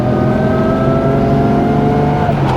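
Vera Velox car with a 2.3 litre straight six engine accelerating, a loud, steady, close engine drone with rising tone and no talking.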